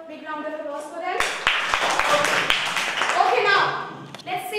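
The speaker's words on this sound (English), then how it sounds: "Can we have a big round of applause for them?" A classroom group gives a round of applause, a burst of fairly loud, close hand claps with a few sharp slaps at the start, mixed with voices of children and adults speaking over it.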